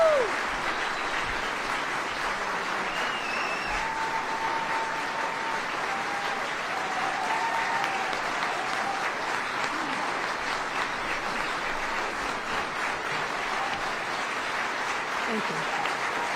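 An audience applauds steadily to welcome Mayor Lori Lightfoot at her farewell address, sustained clapping in a large hall with a few faint cheers.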